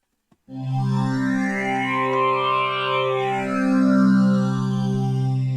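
Arturia MiniFreak synthesizer patch with very quick attack, decay and release, layered with modulated wet/dry effects: a sustained, thick chord-like tone with shifting upper harmonics and a slow swelling sweep, loud and steady with no talking.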